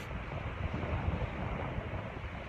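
Strong wind buffets the microphone on the lake dunes at Nordhouse Dunes in Manistee National Forest, with a steady low rumble and waves washing in beneath, continuous and loud with no talking.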